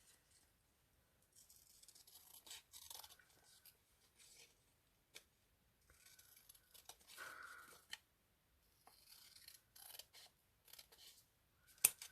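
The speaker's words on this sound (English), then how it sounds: "just going to snip those corners" Scissors snip the corners off paper in short, faint bursts of crisp cutting with papery rustles between them, close up in a quiet room with no talk.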